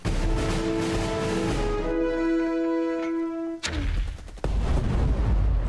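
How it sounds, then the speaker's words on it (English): Explosive mortar fire in the turn-based war game Burden of Command: dense rumbling blasts with ringing tones, a sharp loud impact near the middle followed by renewed heavy rumble, all close and loud. "Getting some mortar fire."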